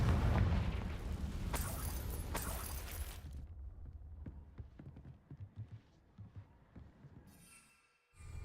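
A Confringo fire spell in a wizard video game erupts with a loud blast that rolls on for a few seconds, then fades into quieter rumbling, scattered crackles and faint clatter.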